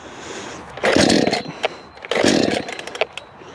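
A chainsaw with its choke on, probably a bit flooded, is pull-started twice in close succession, each pull a loud broadband rasp of roughly a second with a brief sputtering attempt to fire, followed by fainter mechanical clicks.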